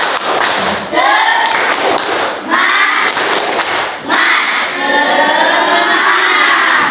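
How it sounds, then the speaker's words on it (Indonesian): A classroom of pupils performs the rhythmic 'tepuk semangat' spirit clap during an Islamic studies lesson, loud bursts of group clapping in patterned beats alternating with shouted chanting voices. "kita mulai saja. Tepuk semangat."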